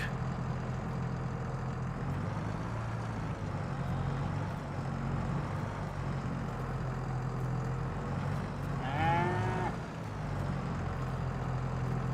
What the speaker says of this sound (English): Cow sounds sick.